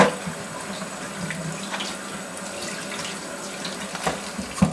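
Tap water runs steadily into a sink as freshly cooked noodles are rinsed and cooled, a continuous close splashing stream with a few soft knocks near the end.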